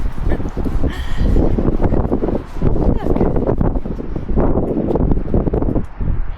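Gusty wind buffets the microphone on an exposed stretch of the North Wales coast near granite quarries, a steady, loud low rumble with surging bursts that runs through the whole stretch.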